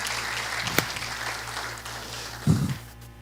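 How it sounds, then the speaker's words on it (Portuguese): Applause from a church congregation at a Brazilian family service, moderately loud and fading over three seconds, with a sharp knock near the start and a low thump toward the end. "Dê uma salva de palmas ao Senhor"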